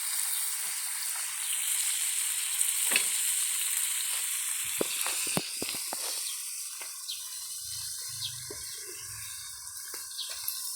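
Sitaw (string beans) frying in a pan with a steady, loud sizzle throughout, broken now and then by sharp crackles and scrapes of stirring, and a low clatter near the end.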